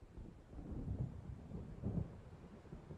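Low thunder rumbles as a storm approaches in Alan Wake Remastered, two soft rolling swells about a second apart, distant and muffled against a faint wash of wind.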